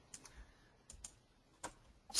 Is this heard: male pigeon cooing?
no